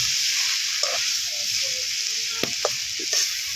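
Vegetable curry sizzles steadily in a pot over a clay stove, a continuous close frying hiss broken by a few sharp clicks and scrapes of stirring.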